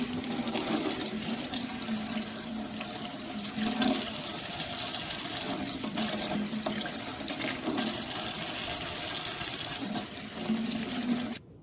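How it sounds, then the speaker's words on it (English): A cucumber is rinsed under a running kitchen tap, water pouring steadily into a sink for about eleven seconds, close and continuous, with no talking. "Now I'm going to rinse the cucumber."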